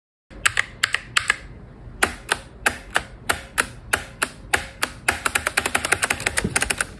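Typing on a computer keyboard with a poor-sounding space bar, before a Play-Doh mod: close, sharp key clacks in uneven runs that speed into a fast flurry near the end, with no voices.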